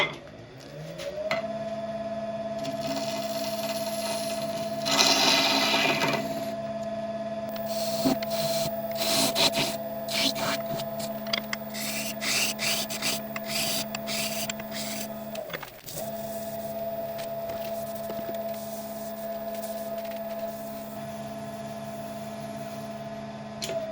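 A wood lathe spins a resin piece while the tenon is turned away, giving a steady motor hum with a high whine throughout and bursts of scraping cuts and chatter in the middle.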